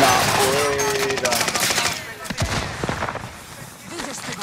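Gunfire in the video game Call of Duty: Modern Warfare, a dense burst of rapid shots and blasts in the opening seconds, then scattered thuds under someone talking.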